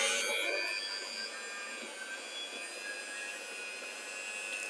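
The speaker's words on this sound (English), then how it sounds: "Now get that mixer." An electric hand mixer beating icing sugar, a steady close whirring drone that holds at a constant pitch throughout with no talk.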